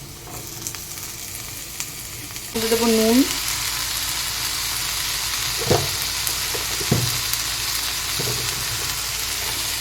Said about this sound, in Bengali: পেঁয়াজটা মোটামুটি হালকা হালকা ভাজা হয়ে আসলে এরপরে দেব ক্যাপসিকাম আর টমেটো